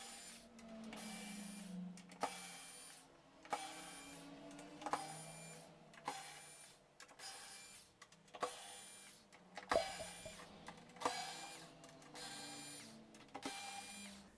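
Screws are backed out of the front grill of a PA speaker cabinet by a power driver, which whirs in about ten short, evenly spaced bursts with brief pauses between, close and fairly quiet.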